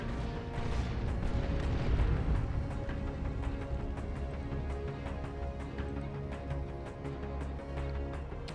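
Whirlwind artillery in Dawn of War II: Retribution, a 3v3 battle, thumping out a steady barrage of booms under dense layered battle noise and sharp repeated impacts.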